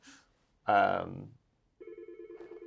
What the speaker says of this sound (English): Might be good to silence the ringer or let it go to voicemail or something.